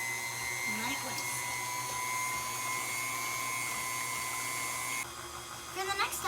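An electric mixer whirs with a steady high motor drone as it whisks melted ingredients for sweet yeast dough, with a few quiet voice sounds and a drop in pitch near the end.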